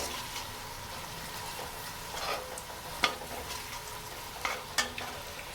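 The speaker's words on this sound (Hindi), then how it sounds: "अब हम लहसुन की भुनाई कर लेते हैं 1 मिनट।" Garlic ginger paste frying in a pan with onion and tomato, stirred with a spoon: a steady soft sizzle under occasional scraping and clinking knocks from the spoon against the pan, without any talking.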